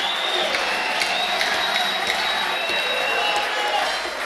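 A church congregation applauds and cheers during a worship service, dense sustained clapping mixed with crowd voices, loud and steady for the whole stretch.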